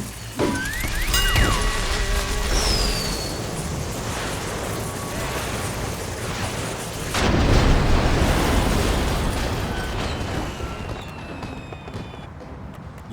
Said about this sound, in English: A giant firework!